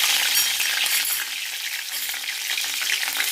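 Mustard seeds and curry leaves sizzle in sesame oil in a pan while a pickle is cooked, a close, continuous crackling hiss with no talking.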